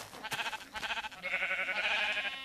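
A brown sheep in Minecraft bleats in a quick run of wavering, nasal calls, close and clear, with no one talking.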